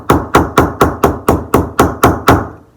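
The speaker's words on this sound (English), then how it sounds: "so if I do that and use a little block of wood to hammer them" Frets are hammered into a flat classical guitar fretboard through a small block of wood during a 31-tone microtonal fret job. Ten sharp, even knocks land at a steady quick rhythm, close and loud, each with a short woody thud, and no one talks.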